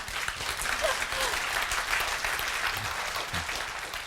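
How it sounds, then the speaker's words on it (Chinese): Audience applause fills the hall after a lecture on Chinese calligraphy, a steady dense clapping from a large crowd that holds evenly for about four seconds with no break. "刚才掌声来的晚了一点哈"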